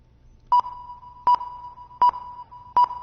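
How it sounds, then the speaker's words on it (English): A repeating electronic beep in a Unity game scene under a cave reverb preset: four evenly spaced short pings, each trailing into a long ringing tail that carries to the next, clean and alone. "we're getting some nice reverb"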